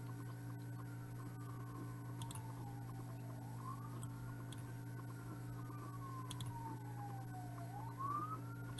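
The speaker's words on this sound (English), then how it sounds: "Let's listen to the sirens a little bit." Emergency vehicle sirens wail at a distance, a faint rising and falling tone sweeping slowly up and down over a steady low mains hum, with no voices.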